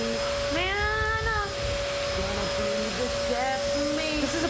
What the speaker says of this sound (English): This is a bullshit vacuum cleaner.